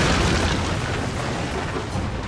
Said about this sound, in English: The defenders will actually have artillery mounted on the coast that they can use to bombard the attacking ships